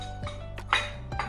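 Mulberries drop into a mixer jar for a milkshake, giving a few close, light clinks and knocks against the jar spread over about a second.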